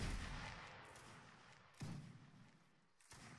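Soldiers in a line battle reenactment fire muskets in ragged volleys. A rolling rumble of shots is followed by two sharp, separate cracks that echo away, moderately distant.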